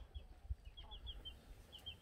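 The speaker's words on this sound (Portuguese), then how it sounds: "Aí é um galinhazal aí, ó." Chickens in a fenced farmyard pen cluck softly, a series of faint, short calls spaced across the moment over quiet outdoor rustle and low thumps.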